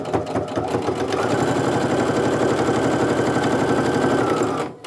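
A sewing machine stitches a quarter-inch seam through quilt block pieces laid right sides together, its needle running in a fast, steady, loud rhythmic chatter for several seconds before stopping abruptly.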